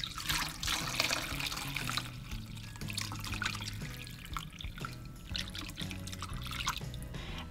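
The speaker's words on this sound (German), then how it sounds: "Ich gieße gleich nochmal Wasser auf, dass sie wirklich schön im Wasser drin liegen" Water is poured onto XXL water beads in a container, making irregular splashes and drips up close, with a tonal background underneath.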